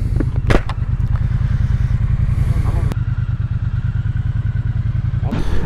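A motorcycle cruises along a scenic English country road toward Chatsworth House, its engine a steady loud pulsing drone with wind rumble and a few sharp clatters, continuous and close throughout.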